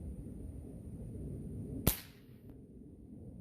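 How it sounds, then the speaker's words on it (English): A single sharp shot from a Crosman 782 Black Diamond airgun with a shortened trigger pull, ringing out as one crisp crack over quiet background hiss. "So if you watch me pull this trigger"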